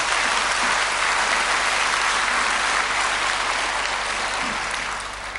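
A church congregation applauds in praise during a worship service, sustained dense clapping close and loud throughout, tapering slightly at the end.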